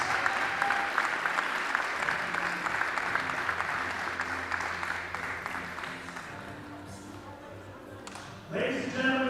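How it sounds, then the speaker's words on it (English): Crowd applause in a gym for a graduating senior girls' basketball player, sustained clapping and cheering that gradually fades, before an announcer's voice comes in at the end. "please give another huge round of applause for all of our Lady Knight graduating seniors"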